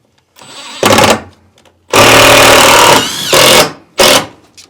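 Screws are driven into an electrical panel in short, loud bursts from a power driver, roughly four whirring runs of varying length separated by brief pauses, close by.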